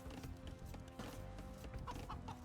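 A chicken in Age of Empires II clucks in short, repeated calls, soft and fairly faint against a low game backdrop.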